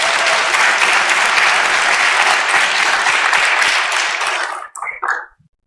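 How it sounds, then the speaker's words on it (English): An audience at a scientific community meeting applauds in dense, loud clapping for several seconds before it thins to a few scattered claps and stops. "I think they deserve, again, an applause for all the work they have done."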